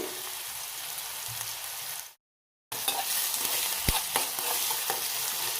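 Onion and chilli frying in a pan for an onion bread roast, a steady loud sizzle with stirring scrapes, briefly cut to silence before the sizzling resumes.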